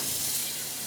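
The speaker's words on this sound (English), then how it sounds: "I'm going to add in some water." Water runs steadily into a pot for creamy potato soup, a brief, even hiss of pouring with no talk.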